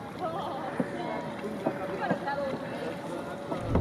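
Steady wash of engine and water noise from a boat moving through choppy Mississippi River water churned by other boats, with occasional thumps and splashes and faint voices underneath.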